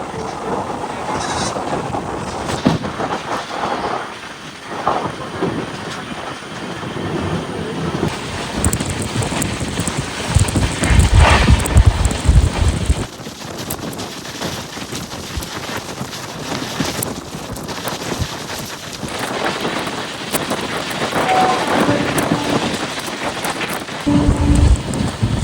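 Heavy rain patters steadily and thunder rumbles loudly, heard from inside a moving Velankanni to Ernakulam express train near Kumbakonam, with wind buffeting the microphone and a sharp thunder burst near the middle.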